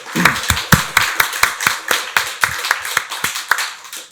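A church congregation at a Sunday service claps together in a quick, steady rhythm, with sharp, loud, evenly spaced bursts of many hands and no speech.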